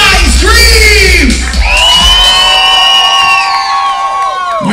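A convention crowd at a cabaret show in a casino screams and cheers loudly, with overlapping whoops and high-pitched shrieks rising and falling across several seconds.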